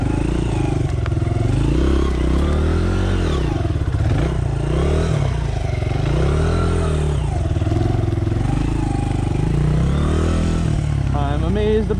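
A dirt bike engine labours and revs continuously up close on a rough enduro trail, its pitch rising and falling steadily, with clatter and scraping over the terrain.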